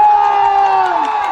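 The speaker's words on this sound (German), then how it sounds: "Deswegen einen riesen Applaus" A festival crowd at the Gut Schimper Fest in Belgium cheers for a singer, with a steady, loud wash of whoops and shouting that holds for the whole brief moment.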